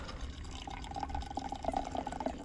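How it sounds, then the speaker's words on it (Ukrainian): Hot tea poured from a small thermos into a cup outdoors, a close, continuous trickling stream of liquid with gurgling splashes for a couple of seconds, no talking. "Собі так наливати і по чуть-чуть з такого міні-термоса чашечки попивати."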